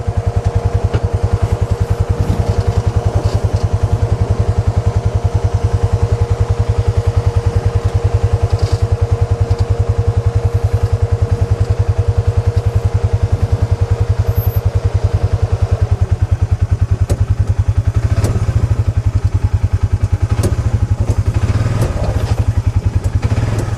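Polaris 570 off-road vehicle climbing a rock trail on Hell's Revenge in Moab, a loud steady pulsing engine throb close by with scattered clunks and knocks from the terrain.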